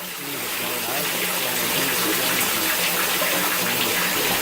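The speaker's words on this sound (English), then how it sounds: "It's running to the drain, and the drain's just moving the water" Rainwater rushes into a French drain in a yard, a steady, close gushing flow with a broad hiss that rises slightly in the first moment and then holds even.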